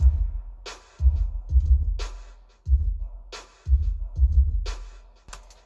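A steady programmed drum beat for a song remake repeats: punchy low kicks paired with sharp snare hits in a looping pattern, played alone and fairly close.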